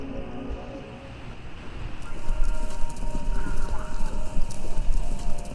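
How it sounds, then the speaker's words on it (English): A horse race plays over a radio station in the video game Kentucky Route Zero, with steady galloping hoofbeats and an occasional whinny rising over a crowd-like wash that grows louder partway through. "It sounds like horses running a race?"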